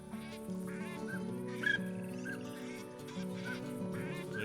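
Ducks in the hunting video game theHunter Classic quack repeatedly over a steady, layered ambient bed, at moderate distance, with no talk.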